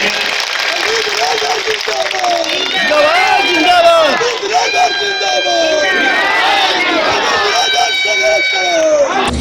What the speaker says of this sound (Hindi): जोरदार ताली बजा करके स्वागत करेंगे